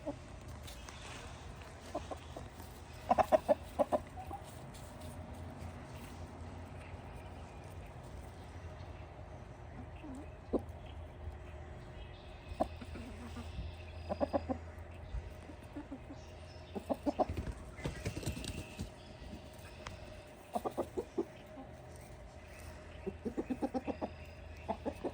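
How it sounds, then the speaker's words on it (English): Backyard chickens cluck and murmur in scattered bursts at moderate distance over a quiet outdoor background, with short louder clucks breaking out every few seconds. "Some pretty chickens."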